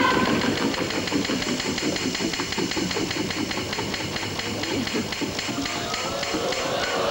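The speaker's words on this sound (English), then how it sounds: "And spin that wheel." A game show prize wheel spins, its pointer clicking rapidly and evenly against the pegs for several seconds under a steady background hum, with no one talking.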